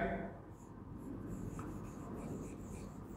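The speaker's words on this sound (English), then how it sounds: "So first I will write" Chalk or marker scratching across a classroom board during a science lesson, a steady close rubbing and tapping texture lasting a few seconds with no talk over it.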